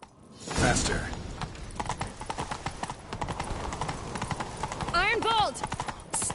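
Horses gallop in The Witcher 3, a steady, close clatter of hooves through the whole stretch, with one whinny rising near the end while game voices speak over the ride.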